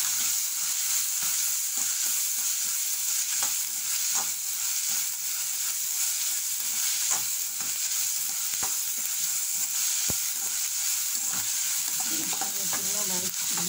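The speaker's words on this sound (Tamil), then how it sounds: "வதக்கிக்கிறோம். கருவேப்பிலை, கொத்தமல்லி, பச்சை மிளகாய் இதெல்லாம் வந்து அதில் சேர்த்துக்கிறோம்" Onion sautéing in a pan with curry leaves, coriander and green chilli, a steady bright sizzle broken by repeated scraping stirs, close and continuous with no talk.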